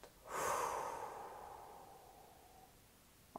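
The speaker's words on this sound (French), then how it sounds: "vous allez faire 3 grandes respirations profondes en inspirant par le nez et en soufflant bouche ouverte" One deep breath, breathed out slowly through an open mouth as a soft, airy whoosh that starts strong and close, then fades over a couple of seconds in a quiet room.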